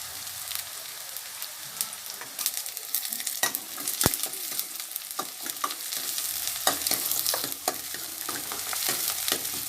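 Garlic and onions for a katla fish curry sauté in a hot oily pan, a steady close sizzle with crackling pops and occasional scraping stirs, no voices.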